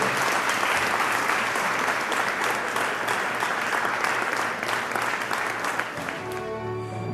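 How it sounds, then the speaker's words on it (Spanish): A church congregation applauds during a Sunday service, dense sustained clapping from a crowd that carries on for several seconds before tapering off at the end. "Vamos a ponernos de pie y darle un gran aplauso al Señor"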